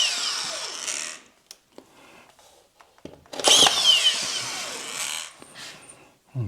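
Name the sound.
drill driving screws into drywall on ICF wall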